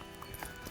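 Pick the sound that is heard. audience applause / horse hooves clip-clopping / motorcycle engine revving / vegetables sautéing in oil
horse hooves clip-clopping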